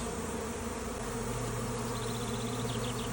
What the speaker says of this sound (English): I am in the thick of a swarm.